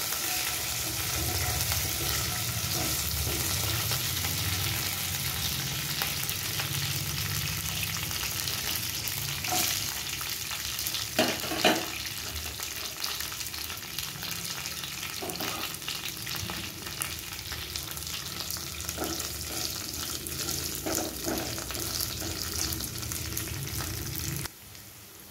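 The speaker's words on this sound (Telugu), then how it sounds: "కొంచెం వేగిన తర్వాత ఒక ఉల్లిపాయ, ఒక పచ్చిమిరపకాయ వేసుకోవాలండి." Onion and green chili frying in a pan for a plantain fry, a steady close sizzle running throughout with occasional stirring scrapes, alone without voices.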